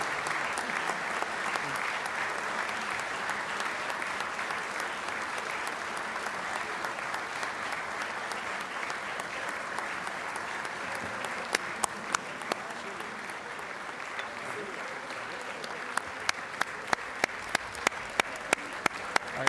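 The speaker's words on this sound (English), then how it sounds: "folks listening on South Carolina Public Radio hear a lot of applause" Long, steady applause fills the South Carolina House chamber as the governor enters for the 2025 State of the State Address, with crisp individual claps standing out nearer toward the end.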